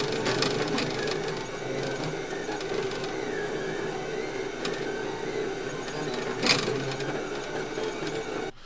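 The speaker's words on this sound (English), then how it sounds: "this is an imploder cone, apparently, being 3D printed." A 3D printer works steadily on an imploder cone, its motors whirring and buzzing in a continuous mechanical drone, with occasional sharper clicks and rattles close by.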